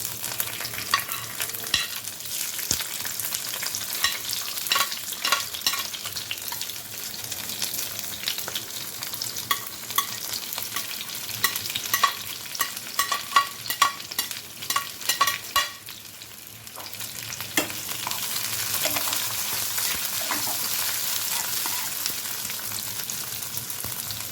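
Onion and capsicum stir-fry with garlic in a pan, giving a continuous close hiss with rapid spatula scrapes and taps that cluster midway, then settle into an even, brighter sizzle.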